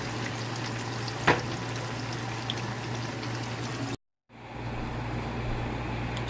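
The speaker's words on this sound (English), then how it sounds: "I'm gonna bring the potato and start frying the potato too." Steady crackling sizzle of potatoes frying in hot oil, continuous and close, with a brief cut in the middle before the sizzle resumes.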